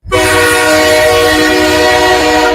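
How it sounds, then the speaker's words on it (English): A loud, sustained train horn sounds as a played effect, a rich steady chord that starts abruptly and holds close and strong throughout, with rumbling rail noise beneath. "Another train!"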